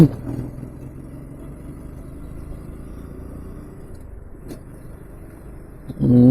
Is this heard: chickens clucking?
no